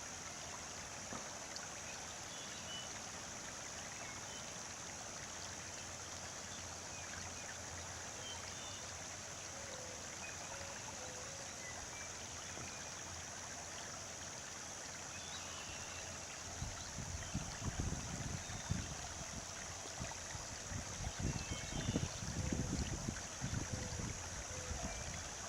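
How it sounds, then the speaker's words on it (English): Storm water runoff rushing briskly downhill along a roadside toward an orchard pond, a steady hissing wash of flowing water, fairly faint, with some louder low rumbling bursts near the end. "This water is flowing at a very brisk pace, and it's headed ultimately to the pond"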